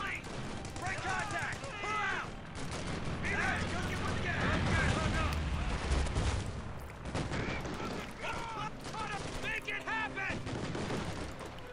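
Mortar and artillery fire rumble through a battle in the strategy game Company of Heroes 2, with booming impacts and crackling gunfire layered continuously, while voices and unit chatter talk over the combat throughout.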